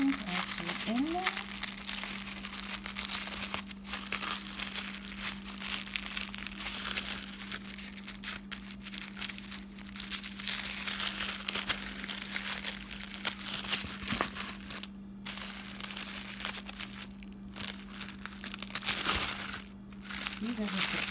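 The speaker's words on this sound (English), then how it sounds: "And here is the wrapping paper with the runes actually in there." Wrapping paper crinkles and rustles steadily and close up, a continuous papery crackle that runs through the whole stretch with a low steady hum underneath.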